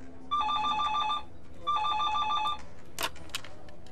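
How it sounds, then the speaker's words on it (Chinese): A telephone bell rings in two clear bursts of trilling tone indoors, followed by a brief clatter as it is picked up; no talking. "天真，你的电话"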